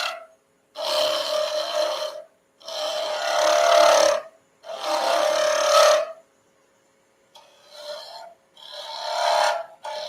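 Wood lathe turning tool chattering against a spinning workpiece, five rough rasping bursts of one to two seconds each, separated by short silent pauses, close and loud with no talking.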